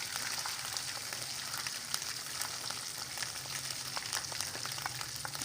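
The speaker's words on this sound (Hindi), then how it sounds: "अब हम इसमें चॉप किए हुए प्याज डाल देंगे।" Chopped onions frying in a pan of light-browned garlic-ginger paste, giving a steady, dense sizzle with scattered crackles and faint stirring throughout, at a soft level and without any voice.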